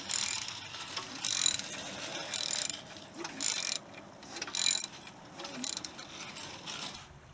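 Ratcheting and mechanical clicking while the pulley drive of a VW Golf Mk2 timing belt is tightened: quiet, irregular bursts of metallic clicks up close, with no talk.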